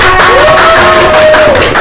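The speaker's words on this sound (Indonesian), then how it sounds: "Beri tepuk tangan." Students in a fourth-grade microteaching class clap for group 2, a loud, close, continuous patter of many hands with a voice sounding over it.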